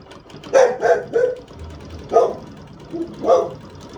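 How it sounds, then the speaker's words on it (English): A pet dog lets out a quick burst of several sharp barks close by, pauses, then adds a few more, during machine quilting of a stitched quilt design; no one speaks. "my dog Max decide to bark when I start videoing"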